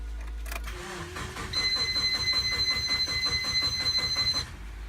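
Subaru Forester with a compound GT35 turbo setup cranking over: the starter whirs in a rapid pulsing rhythm for a few seconds, with a steady whine above it, and the engine does not clearly catch.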